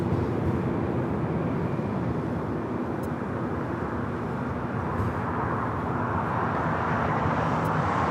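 An Aeromexico airliner on Flight 644 from Mexico City lands at Los Angeles airport, heard as a steady, broad jet roar from a distance that holds evenly throughout, with no talk.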